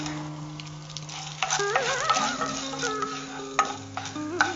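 Dried red chilli and peppercorns fry and sizzle in an oil-filled pan for Mysore rasam, a steady close crackle with stirring scrapes over soft background music and no speech.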